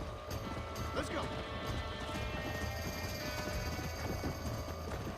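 Hoofbeats of a horse in the Red Dead Redemption video game, a steady clip-clop running through the whole stretch with occasional whinnies, under game sounds and someone talking.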